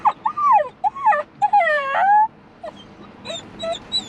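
A dog whimpers and whines in a series of high, wavering cries, some rising and falling long moans, close and clear with short gaps between them in a Perth setting.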